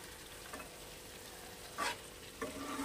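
Chicken chaap stirred in a frying pan over low flame, a continuous gentle sizzle with a couple of brief scraping stirs near the end.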